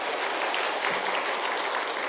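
Church congregation at a Wednesday evening service applauds the pastor, a steady, dense wash of clapping that holds at an even level throughout.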